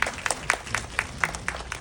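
Rhythmic clapping from a small group, about eight even claps in under two seconds, close and crisp.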